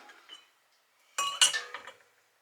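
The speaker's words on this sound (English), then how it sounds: "so I gotta get these in the canner" Glass jars of bone broth are set into a pressure canner on an off-grid range: a brief close cluster of clinks and knocks after a near-silent pause, with no talk.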